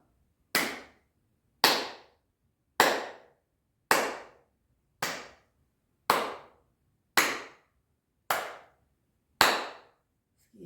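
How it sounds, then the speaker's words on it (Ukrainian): A teacher's hands clap nine times in a quiet classroom, sharp close slaps spaced about a second apart in an even counting rhythm, each decaying quickly into silence. "А тепер я буду плескати в ладоні, а ви слухайте уважно"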